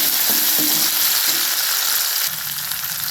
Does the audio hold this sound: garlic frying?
yes